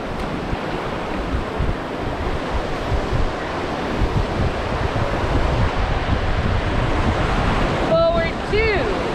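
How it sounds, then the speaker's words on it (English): Whitewater rushes through a class 2 rapid on the Gauley River during a raft trip, a dense continuous roar of churning water with wind buffeting, close and loud, with brief shouts near the end. "coming up next we have another little class 2 rapid"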